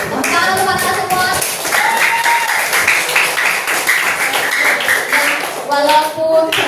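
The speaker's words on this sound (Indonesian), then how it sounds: "Tepuk tangan untuk mereka semua." A group of young voices cheer while many hands clap together in a lively, ragged burst of applause.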